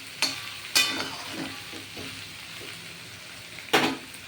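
Chopped bottle gourd for a vegetarian Bengali lau ghonto being stirred in a frying pan: soft scraping and low sizzle, with a few sharp utensil knocks on the pan at the start and near the end.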